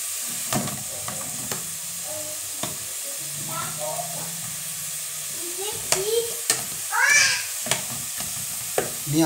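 Soft sizzling and crackling of pork rinds frying in a pan over low heat, with occasional clatters of stirring and a child's high squeals breaking in near the end.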